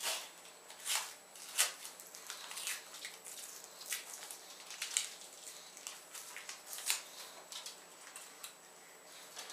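Cellophane wrapper being peeled off an Alec Bradley Filthy Hooligan cigar, quiet crinkly ticks and crackles coming in scattered bursts over several seconds, close up with no speech.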